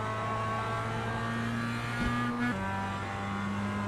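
A race car engine holds a steady, droning note during a hot lap with the rear end sliding, and the pitch dips briefly midway as the car rotates.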